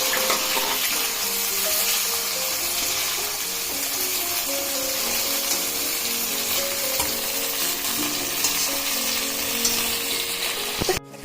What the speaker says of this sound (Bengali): পেঁয়াজ, যে টমেটো আর লঙ্কাটাও দিয়ে দিলাম। ঠিক আছে, এবার এটাকে আমি হালকা করে ভাজবো।